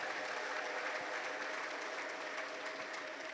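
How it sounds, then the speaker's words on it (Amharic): A church congregation claps in a dense, continuous burst of applause, fairly distant and even in level, with no clear ululation standing out. "እስኪ እልልታና ጭብጨባ ለጌታ ስጡት።"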